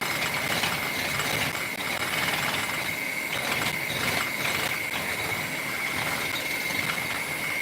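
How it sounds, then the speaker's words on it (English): An electric hand mixer whips cream in a bowl, giving a steady, loud motor whir with a sustained high whine that runs unbroken from start to finish, with slight rattling from the beaters and no talking. "this is a hand mixer"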